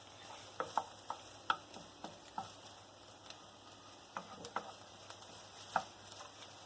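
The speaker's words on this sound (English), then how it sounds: "so fry this about 30 seconds until it's golden brown or translucent." Chopped shallot frying in a pan over medium heat, a faint steady sizzle with soft scattered taps and stirring clicks.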